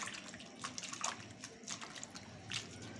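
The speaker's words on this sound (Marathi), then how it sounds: "आता आपण ही भाजीत पाणी ओतू आणि 2 पाण्याने धुवून घेऊ" Leafy greens (tandulja bhaji) being rinsed in a vessel of water, with soft splashes, drips and sloshing that rise and fall in short bursts, close and fairly quiet, with no talking.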